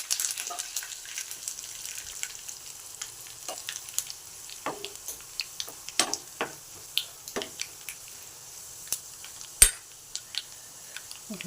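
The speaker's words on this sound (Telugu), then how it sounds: "ఇప్పుడు కరివేపాకు" Curry leaves dropped into hot oil for a sambar tempering give a quiet continuous sizzle, broken by scattered sharp crackles and spoon scrapes against the pan, with one louder clack near the end.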